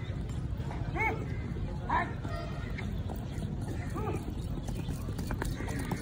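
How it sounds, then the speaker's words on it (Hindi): Horses clip-clop at a horse market in Peshawar, light hoof taps and a whinny-like call mixed with crowd chatter and nearby voices in a busy outdoor setting. "घुड़सवारी हो रही है यहाँ पर।"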